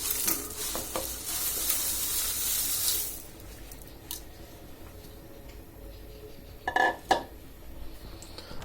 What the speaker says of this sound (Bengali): দলা বেঁধে না যায় মতো একটু নাড়তে হবে।